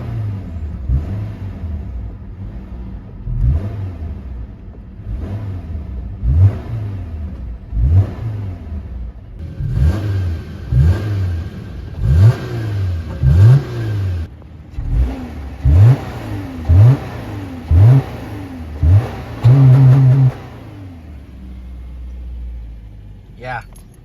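A Subaru Impreza engine with its airbox silencer removed is revved again and again in short rhythmic bursts, each climbing and falling back, loud and close, with a long final rev before settling to idle.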